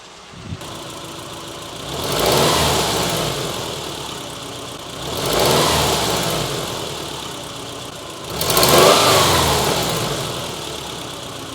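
A car engine idles and runs steadily after cheap replacement parts were swapped back out, with three rising surges roughly three seconds apart as it is revved, fairly close and without talk.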